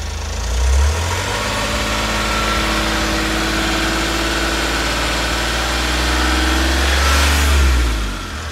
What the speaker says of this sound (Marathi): गाडीची फायरिंग. थोडंसं रेस करा सर